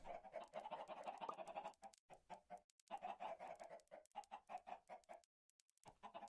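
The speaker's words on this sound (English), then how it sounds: "It sounds like there are chickens in here." Chickens in the Minecraft video game cluck in steady, repeated bursts, a dense run of fowl calls broken by short pauses, fairly close and alone without any talk.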